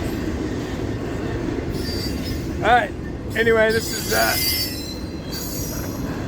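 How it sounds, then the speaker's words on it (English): An FEC northbound freight train rolls past in Jacksonville, steady wheel rumble broken by several sharp, piercing wheel squeals, loud and close, while someone talks briefly. "one of the northbound trains that arrives in the morning and blocks up Jacksonville"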